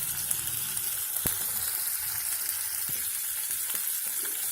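Fish pieces sizzle in hot oil as they fry on both sides, a steady close crackling hiss with a few sharp pops and light utensil taps.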